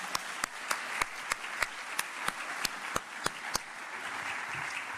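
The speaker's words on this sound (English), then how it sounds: "Can you all give them a round of applause with me?" Audience applause for the Office of Arts and Culture team at a Dallas arts event, a light background patter punctuated by one person's loud, evenly spaced nearby claps that stop partway, with the crowd clapping on faintly.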